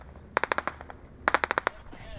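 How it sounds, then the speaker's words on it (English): Bursts of gunfire directed at the rear armoured vehicle of a British and Estonian army patrol in combat against the Taliban: two rapid volleys of about six sharp reports each, moderately distant and separated by a short pause. "the rear vehicle comes under fire"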